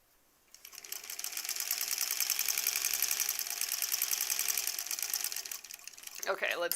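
A sewing machine stitches rows of a quilt block, running steadily at a fast, even clatter for several seconds before stopping, with a brief rustle of fabric at the end.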